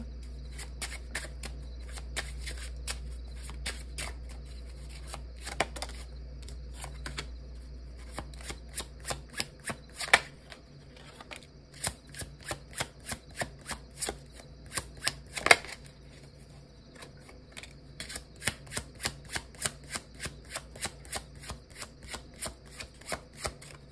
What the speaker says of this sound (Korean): 제가 만든 메시지 카드 몇 장 뽑아보고 리딩 마치도록 할게요